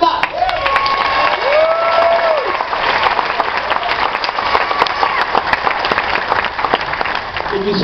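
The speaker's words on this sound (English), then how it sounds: "please give a big round of applause" A big round of applause from a live audience greets a singer on stage, steady dense clapping with a few cheers and whistles mixed in, filling the whole stretch.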